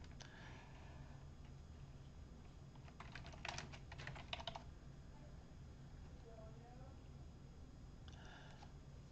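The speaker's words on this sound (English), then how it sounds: "By clicking the search button, I can begin typing." Keys clatter on a computer keyboard as a query is typed into a search field, a quick burst of clicks mid-clip and a shorter run near the end, over a steady low hum.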